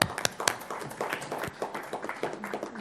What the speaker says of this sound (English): we want to give him applause for being a year better